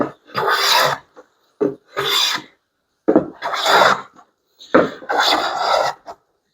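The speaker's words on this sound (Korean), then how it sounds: "옹이 부분 뒷페질 엄청 힘드네요" Rasping strokes of a Japanese hand plane dragged back across a hard wood knot, four long scraping passes separated by short pauses, close and loud with no voices.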